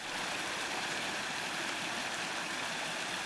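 River flowing at a crossing in dense Coromandel bush in New Zealand, a steady, faint broadband rush of water with no breaks.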